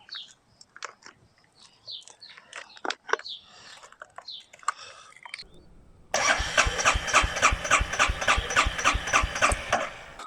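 Some clicks and rattles, then a Royal Enfield Meteor 350 motorcycle engine cranks over with a rapid, rhythmic churning from the starter, loud and close, continuing to the end.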